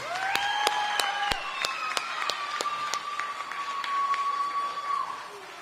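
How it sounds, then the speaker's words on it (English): An audience claps for a school band and drum line at a principal of the year event, scattered sharp claps ringing out over a sustained musical tone that fades near the end. "Give them a round of applause one more time."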